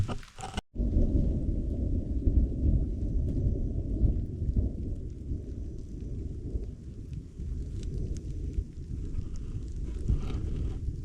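A deep, rolling rumble of thunder over a steady hiss of rain, loud and continuous for the whole stretch, with no voices.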